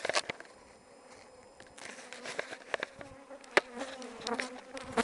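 Honey bees buzz around an opened beehive at an apiary, a faint, close, wavering hum broken by scattered clicks and knocks of handling the frames.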